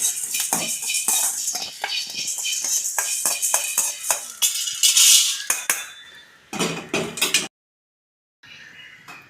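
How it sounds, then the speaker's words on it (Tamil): Coriander seeds dry roasting in a kadai, stirred with a metal spoon: busy scraping and clinking strokes close up, a louder burst of rattling near the middle, then a brief silence before quieter stirring resumes. "இப்போ இந்த மல்லியை போட்டு இப்போ மல்லி நல்லா வறுத்துக்கிட்டு இதை எடுத்துக்கணும்"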